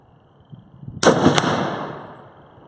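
A single sharp gunshot from a Molot VEPR .308 AK-pattern rifle at a shooting range, loud and close, with a long echoing decay afterward and no talk.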